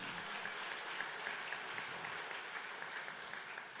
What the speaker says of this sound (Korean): 우리 청년들 힘내라고 다시 한번 우리 격려의 박수 하겠습니다.